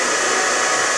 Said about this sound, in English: You shouldn't keep the hair dryer on in between sections.